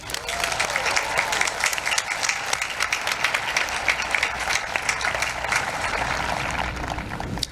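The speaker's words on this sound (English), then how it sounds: "give them a round of applause" Sustained, dense applause from an audience honouring school staff at a Riverside speech event, steady and fairly loud for the whole stretch with no talking over it.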